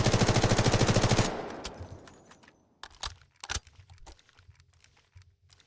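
Rapid automatic M4A1 rifle fire in the shooter game Delta Force, a loud burst of evenly spaced shots for about a second, then a fading tail followed by faint clicks and clatter.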